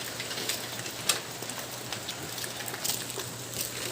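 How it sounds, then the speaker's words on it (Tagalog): Steady rain patters on a surface on a mountainside, a soft continuous hiss with occasional louder drops, no talking. "Hinabot na kami dito ng ulan, oh."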